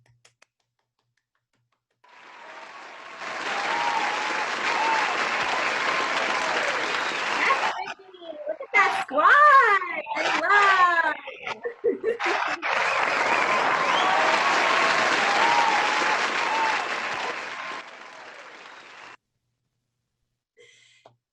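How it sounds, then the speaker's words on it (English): Large graduation ceremony crowd breaks into sustained applause, then a short stretch of excited speech, then a second long round of clapping before it stops. "invite those who supported you throughout your Florida State University journey to be recognized with a round of applause"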